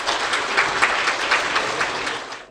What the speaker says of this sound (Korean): 여러분, 이충근 박사님 나오실 때 뜨거운 박수로 환영 부탁드립니다.